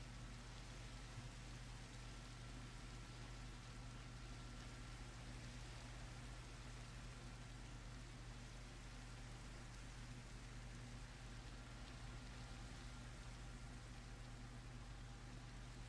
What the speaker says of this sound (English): the rain is realistic on the shader pack.